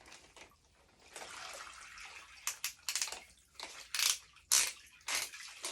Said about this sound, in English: Rinse it up and down.